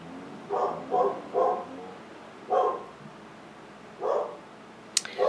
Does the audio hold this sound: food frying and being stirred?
no